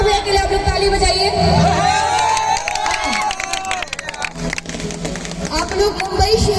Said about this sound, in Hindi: अंजू भैया के लिए आप लोग ताली बजाइए।